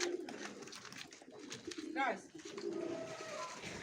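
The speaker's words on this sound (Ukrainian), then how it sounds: "Це найголовніший голуб." Pigeons coo softly in a Mykolaiv pigeon loft, one short rolling coo standing out amid outdoor noise while people talk nearby.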